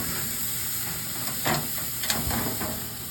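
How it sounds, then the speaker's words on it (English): Smoked prime rib tied with twine searing on a grill, a continuous hiss with brief louder sizzling bursts as the meat sits on the hot grate, close and alone. "I've got this on my grill. I'm just going to sear each side for, 30 seconds or a minute."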